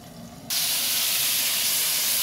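Potato and pointed gourd pieces hit hot oil and burst into a loud, sustained sizzle that starts abruptly and keeps hissing evenly without pause.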